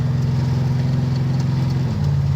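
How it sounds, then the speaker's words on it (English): A car engine idles steadily with a deep, throaty exhaust tone, loud and close, holding a rumbling pitch that dips slightly near the end without revving. "Great tone from that exhaust."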